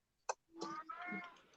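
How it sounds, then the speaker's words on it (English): A cat meows faintly in the background of an indoor craft session, a short wavering call just after a small click, with no talk over it. "We can hear the cat."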